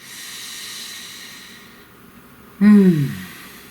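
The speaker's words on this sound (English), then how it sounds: "Breathe." A single deep breath out, a soft breathy hiss after a quiet stretch of low room noise, close and fairly loud, with no talk.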